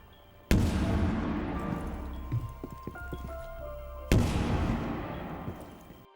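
Two loud, sudden proximity mine explosion bangs from Ela's gadget in Rainbow Six Siege, a few seconds apart, each crashing in sharply then rumbling and fading, with small clatters in between.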